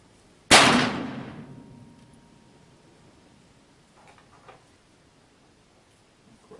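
A single loud, sharp shot from an 1851 Uberti black powder revolver cracks close by, followed by a long decaying echo and faint handling noises, with no talk.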